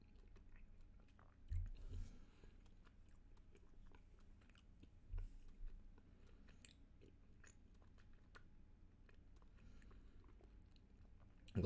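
Faint, close chewing of sticky Starburst candies, soft wet mouth sounds with a few louder crunchy bites, no talking.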